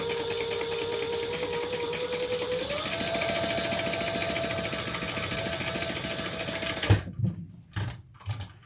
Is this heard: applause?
no